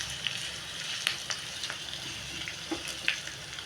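Spices for a tempering sizzle and crackle continuously in hot oil for a drumstick leaf dal, with scattered sharp pops over a steady close frying hiss and no talking.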